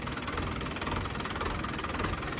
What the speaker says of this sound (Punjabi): ਟਰੈਕਟਰ ਦਾ ਇੰਜਣ ਪੂਰੇ ਦਾਣੇ ਗਿਣਦਾ ਹੈ